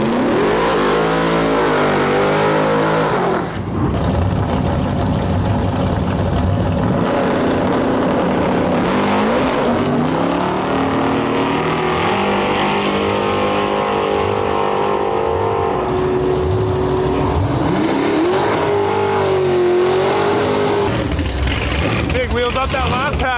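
A loud drag racing car at a drag-and-drive event roars down the strip, its engine revving and climbing hard for over twenty seconds, with an announcer talking over it.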